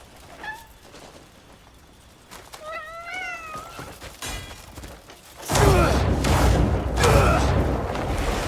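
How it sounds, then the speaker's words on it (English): In the video game Crimson Desert, a cat gives a few short meows and then a longer wavering mewl, fairly close, before a louder burst of rumbling game noise takes over. "No, I didn't want to grab my cat."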